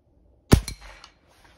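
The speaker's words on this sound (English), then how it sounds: "Okay, I'm going to take a shot at that" Single sharp crack of an airgun fired at a distant target outdoors, a close, brief snap with a short tail of echo, alone in near silence.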